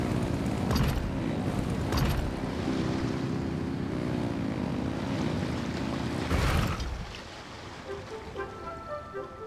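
Boat engines rev in Genshin Impact during the Lantern Rite event: a loud, steady roar with whooshing surges and a brief burst near the end, then a sudden drop to a quieter rumble.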